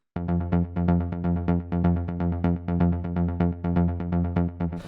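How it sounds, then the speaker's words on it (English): A synth stab repeating one note at 125 BPM in a futuristic sound, punchy rhythmic hits droning steadily and loud on their own. "the first sound I have here is this little stab"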